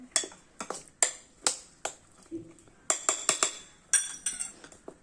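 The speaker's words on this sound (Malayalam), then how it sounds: "അതിനകത్തോട്ട് നമ്മൾ ഈ വെണ്ടയ്ക്ക മിശ്രിതം ഇട്ട് നല്ലതുപോലെ ഇളക്കുക" A spoon clinks against a metal pot or bowl while okra is stirred into a coconut and green chilli mix for a Kerala-style okra pachadi, giving a series of sharp, close taps and scrapes in uneven bursts with no talking.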